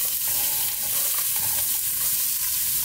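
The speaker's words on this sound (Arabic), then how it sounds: "نقلب البامية على البصلة" Sliced okra being stirred with onion in a hot pan, heard as a loud, dense, continuous sizzle with soft scraping mixed in. The sound is close and steady for the whole stretch, with no talking.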